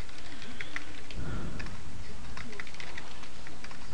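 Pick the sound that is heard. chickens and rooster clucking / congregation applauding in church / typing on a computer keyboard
typing on a computer keyboard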